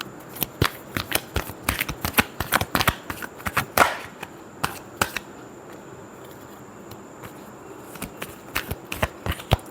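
Tarot cards are shuffled close up in quick, crisp riffles and taps, the sharp clicks bunching in the first seconds and then thinning to scattered flicks.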